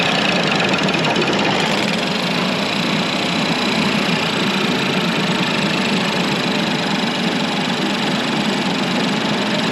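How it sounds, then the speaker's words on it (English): A Ford Focus 1.0L EcoBoost engine, with washer fluid in its coolant system, idles steadily and loudly with a rough, knocking vibration and heavy shaking that continues throughout. "The engine's shaking quite a bit."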